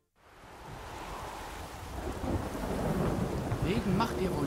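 Steady rain hiss with low rumbling thunder in the video game The Witcher 3: Wild Hunt, swelling toward the end, continuous and fairly close, no voices.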